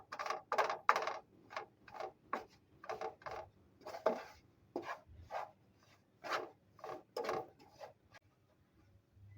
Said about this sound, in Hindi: चमचा चलाते रहना है ताकि ये अच्छी तरह से भून जाए